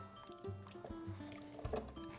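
Flour is stirred into water in a pan with wet squishing and sloshing, clumps breaking up in uneven strokes, close and moderately loud, with no talking.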